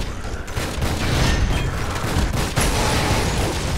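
Gunfire in Lara Croft and the Guardian of Light comes as loud, dense bursts of shots and booms that run almost without a break, close and harsh, with a game soundtrack underneath.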